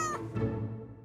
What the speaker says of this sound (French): Voici Noisette, le chat de garde du château.